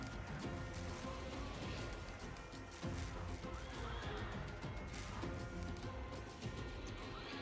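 Horses whinny and neigh repeatedly in a strategy video game battle, dense with hooves and clashing combat noise, loud and continuous throughout with no speech.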